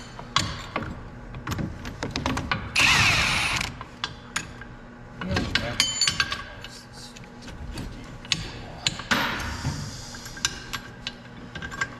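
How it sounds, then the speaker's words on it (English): A nut is spun off a metal part of a corn head in a workshop, giving rapid ratcheting clicks and scattered metallic clinks and taps up close, with a brief louder rattle partway through. "So we got to spin this nut off the rest of the way."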